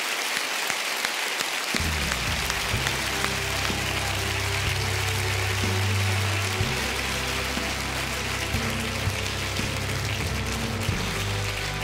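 Audience at the 2013 Bambi award ceremony bursts into sustained loud applause after a brief quiet start, with a low hum running beneath the dense clapping until the end.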